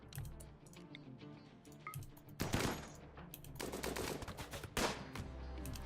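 Gunfire during an ambush in the medieval-modded video game Rimworld: a few sharp shot bursts crack out over a steady, tonal game-music bed, loud and close, with no talking.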